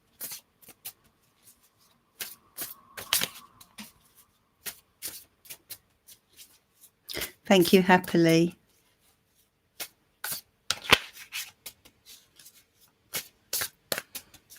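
Tarot cards being shuffled in short riffling bursts, with one longer, louder riffle midway, between brief stretches of someone talking.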